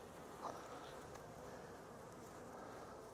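Honey bees hum around an opened hive during an April inspection, a faint, steady buzzing drone filling the background with no clear breaks.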